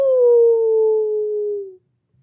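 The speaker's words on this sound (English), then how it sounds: "Then the beast let out a screeching howl." A single loud, sustained wailing howl with a steady tone that slowly falls in pitch before cutting off into silence.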